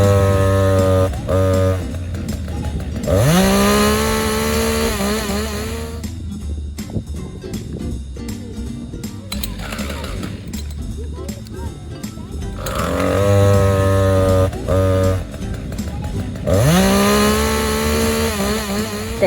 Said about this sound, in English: Dad is going to fire up the chainsaw.